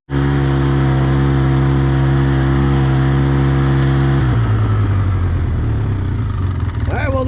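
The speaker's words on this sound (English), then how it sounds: "there's the tractor. Tractor's great. Started right up. No hiccups at all." A tractor engine runs steadily just after starting, with a loud, even idle hum that drops in pitch partway through and continues on.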